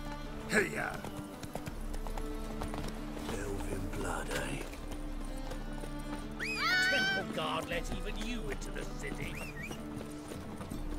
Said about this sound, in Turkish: Bizim atın sesiydi o.